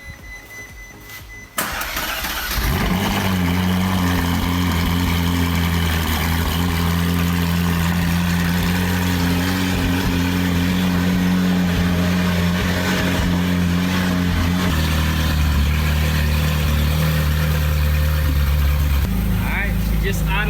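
A wrecked Ferrari 458 Spider under rebuild fires up with a loud start, then settles into a steady, close, deep idle that holds for most of the stretch before dropping lower near the end.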